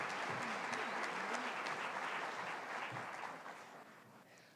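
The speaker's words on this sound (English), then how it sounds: "if you can please give her a round of applause" Applause from a summit audience of hundreds welcomes a speaker onto the stage, a dense, continuous wash of clapping that fills the room and tapers slightly toward the end.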